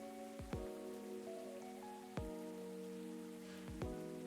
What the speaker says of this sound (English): Is the rain too loud in the background?